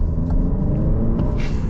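Cabin of a 2023 Alfa Romeo Giulia Ti under acceleration, a steady low engine and road rumble filling the interior without a break, with a faint brighter swell of wind or tire noise near the end.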